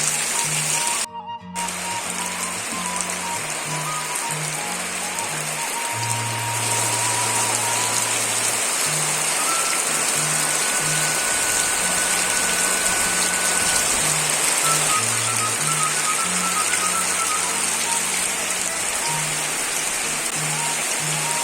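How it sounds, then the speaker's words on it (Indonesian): Heavy rain pours down steadily over a rural rice-field village, a dense continuous hiss with low tonal music playing underneath throughout. "ieu wewengkon ieu kalerasa nuju hujan ageng"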